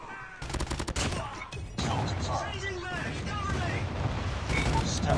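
Rapid gunfire in Call of Duty Mobile, a quick burst of sharp cracks followed by a heavy boom and continuing battle noise, loud and close, with voices talking underneath.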